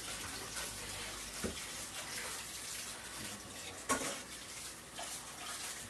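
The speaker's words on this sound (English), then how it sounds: "So I'm just going to wash this down really quickly." Tap water runs steadily at low level while something is rinsed under it in a kitchen during ravioli preparation. The flow holds through the whole clip, with a couple of brief clunks and splashes and no talking.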